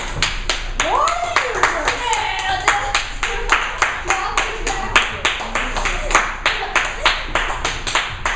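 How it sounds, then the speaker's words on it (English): A class at a sixth-grade Hammurabi mock trial claps in a steady rhythmic beat of sharp, close hand claps, with children's voices talking and calling out over it. "Clap for him, people!"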